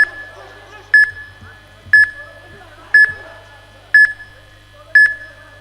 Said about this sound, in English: especially when you hear that timer going off